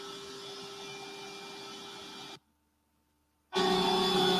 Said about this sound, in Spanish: ahora ya con la aspiradora y el pie